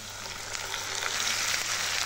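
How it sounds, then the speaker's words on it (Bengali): Half a cup of onion paste going into hot oil in a frying pan over lowered heat, after onions were fried golden for a fish dish. It gives a steady, close, hissing sizzle with faint crackles throughout. "এখন এখানে দিয়ে দিচ্ছি 1/2 কাপ পেঁয়াজ বাটা।"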